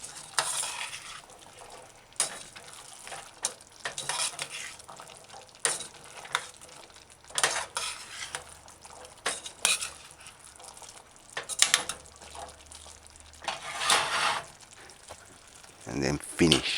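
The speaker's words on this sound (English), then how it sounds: "Add a tablespoon of white vinegar and stir it in." A spoon stirs white vinegar into a chickpea, mushroom and sweet pepper stew in a pot, giving irregular scraping and clinking strokes over a soft simmer, with a voice talking at moments throughout.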